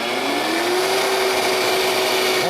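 A Vitamix E320 high-speed blender roars continuously at full variable speed, loud and close, with a steady whining motor tone and no voices.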